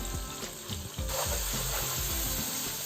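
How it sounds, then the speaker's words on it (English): Spices sizzling as they fry in a wok for a lamb and spinach palak gosht curry, a steady close hiss with small crackles over a few seconds. "And I'm going to fry all this up"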